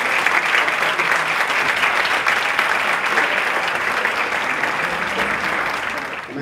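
An audience applauds steadily to welcome the ICIC children's choir at a youth orchestra concert, a dense, even wash of clapping that holds for several seconds and fades slightly at the end.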